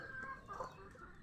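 Free-range chickens in a farm run with fruit trees give a few soft, brief clucks close by, quiet and short against low background noise.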